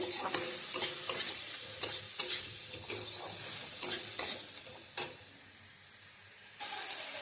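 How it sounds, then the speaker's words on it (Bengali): Spice masala for oil-free chicken, moistened with a little water and stirred in a pan, heard as repeated close scraping strokes of a spoon over a soft sizzle, pausing briefly before stirring resumes, with no voices. "মশলাটা নাড়তে নাড়তে মশলা থেকে আপনা আপনি তেল ছেড়ে দেবে।"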